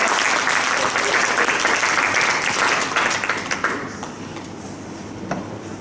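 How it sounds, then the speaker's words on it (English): Steady, loud audience applause at a conference talk, sustained for several seconds before tapering off to scattered claps. "Round of applause."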